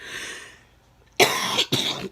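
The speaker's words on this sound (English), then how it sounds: "I was hoping that this cough would be over" Two harsh, close coughs in quick succession after a brief quiet breath, loud and raspy.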